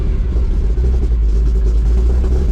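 A 1986 Chevrolet K-20 truck engine idles steadily just after starting, a loud, continuous low rumble with no voices over it.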